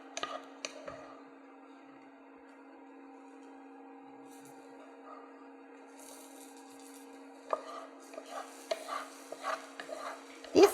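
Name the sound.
mixing rice into tachin batter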